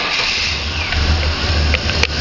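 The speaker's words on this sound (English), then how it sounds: "Start the engine up" A Chevrolet car engine with a 700R4 transmission idles steadily at close range, a low continuous rumble with slight fluctuations and a few faint clicks, and no talking.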